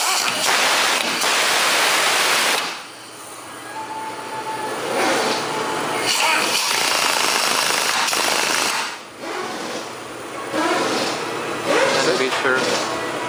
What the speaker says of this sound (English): Next, you want to tighten the end links.